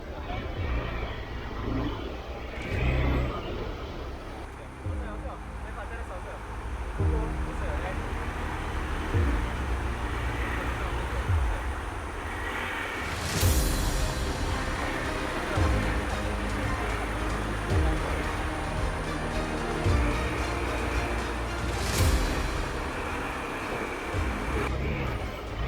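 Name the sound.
Hero Xpulse 200 motorcycle off-roading, tire losing traction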